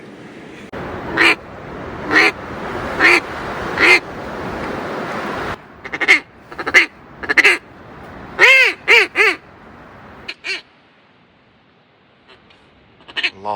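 A wild duck near a pond on a cold winter morning gives a run of loud, nasal quacks, single and in quick clusters, close by and clear against quiet outdoor background.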